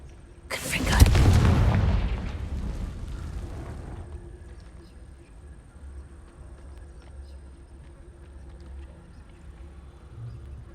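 A Confringo explosion spell goes off in the Hogwarts Legacy video game, one loud booming blast inside a cave that rumbles and fades slowly into quiet ambience.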